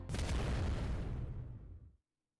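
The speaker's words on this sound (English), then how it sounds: "An explosion." A single explosion in the game Fate/Grand Order, a loud, sudden deep boom that rumbles and fades over about two seconds before cutting to silence.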